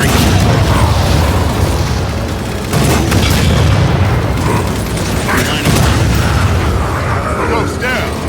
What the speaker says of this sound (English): Ghost is firing.